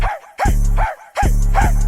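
A man imitates a dog with his voice, giving two loud, close bursts of rhythmic barking and yipping, each a quick run of syllables separated by a short pause.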